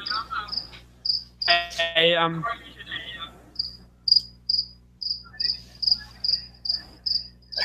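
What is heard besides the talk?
cricket chirping loudly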